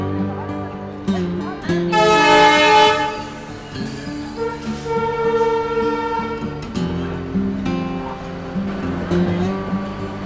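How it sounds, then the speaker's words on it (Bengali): The 20871 Rourkela Vande Bharat express passes close by with a loud, sustained tonal horn blast, followed by the rumble of the moving train, while a person talks over it. "আমাদের পাশ থেকে কিন্তু যেই এখন বন্দে ভারতটা বেরোচ্ছে, এটা 20871 রাউরকেল্লা বন্দে ভারত"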